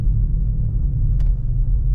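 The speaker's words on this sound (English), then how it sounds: "you can hear the engine growling" A steady, low petrol V6 engine rumble from inside a moving Jaguar XF, constant and fairly loud, with no voices.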